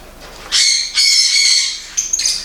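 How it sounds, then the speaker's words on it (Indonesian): Loud, close bird squawks and chirps ring out in bursts at an exotic animal breeder's place where parrots, sun conures, sugar gliders, ferrets and snakes are kept. "bahkan ada burung-burungan juga di sini"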